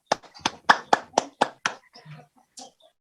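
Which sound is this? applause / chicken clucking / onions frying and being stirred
applause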